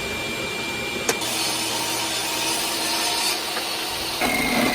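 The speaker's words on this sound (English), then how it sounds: "I was able to make the majority of the cut using my table saw." A table saw cuts through wood for chair back legs, giving a steady, dense whining roar that holds level for several seconds with a brief knock near the start and a slight rise in pitch near the end.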